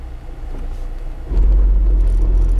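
A Lada Niva with its rear driveshaft removed runs in first gear during an off-road competition, the engine rumble close and steady, then jumping louder and deeper as the gear engages.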